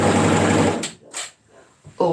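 A sewing machine stitches a shoulder seam on a Lago vest top, with a fast, close whir for under a second before it stops. A few soft clicks and a short handling noise follow, with a brief voice at the very end.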